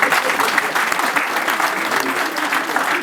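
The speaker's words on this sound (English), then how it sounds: "Can I have a round of applause?" A crowd claps steadily and continuously at a university hostel opening ceremony in Africa, a dense wash of applause that holds at an even level throughout.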